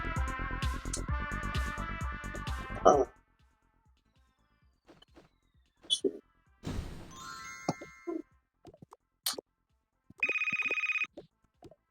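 A telephone ringtone sounds in a home: a loud, rapid jingling melody for about three seconds, then a quiet stretch with scattered clicks and shuffling, with a shorter electronic tone burst returning near the end.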